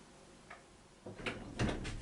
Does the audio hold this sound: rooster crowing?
no